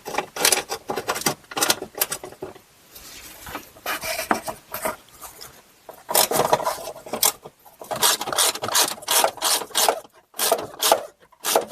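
A ratchet backs a 10 mm bolt out of the fuel filler neck on a Buick Lacrosse, Chevy Impala or Malibu, with repeated close, raspy clicking strokes in uneven bursts separated by short pauses.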